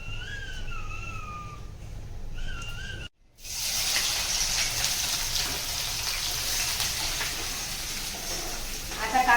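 Ingredients for a boiled-egg chutney fry in a pan, a steady loud sizzle that starts suddenly after a short gap, while a few high whistling tones sound early on.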